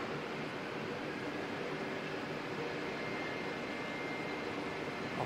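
Jet airliner Z543 rolling for takeoff at Auckland Airport in crosswinds, a steady broadband engine roar that holds at a distant, moderate level throughout with no voices.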